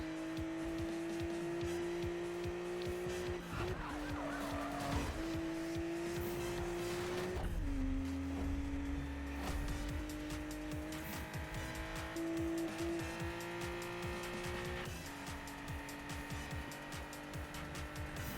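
A car engine droning steadily while driving in the video game Need For Speed 2016, with gear shifts changing its pitch and occasional tire squeal, under music-like tonal layers and with no talk.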